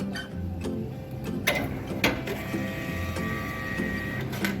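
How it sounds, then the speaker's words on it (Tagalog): A point-of-sale receipt printer whirs and clicks as it prints, with a few sharp mechanical clacks as it triggers the cash drawer to open, and a steady buzzing feed, close by and alone. "every time the printer will print, will also open the cash drawer"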